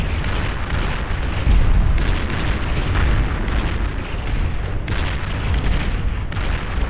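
Heavy artillery pounds a base in the strategy game Beyond All Reason, a continuous barrage of overlapping booms and rumbling blasts that stays loud throughout with a few sharper bursts.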